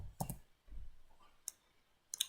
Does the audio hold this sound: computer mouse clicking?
yes